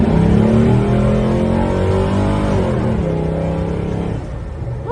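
A 1967 Chevrolet Chevelle SS V8 muscle car revs hard, its deep engine roar climbing in pitch as it accelerates, loud and close, then easing off.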